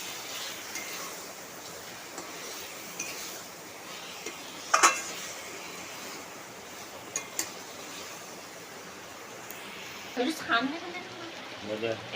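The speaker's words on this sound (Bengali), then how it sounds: "গরম মশলাটা দিয়ে একটু নেড়ে নিচ্ছি" A spoon stirs garam masala into a pot of egg pulao with potatoes, giving sparse, faint metallic clinks and scrapes against the pot over a quiet background.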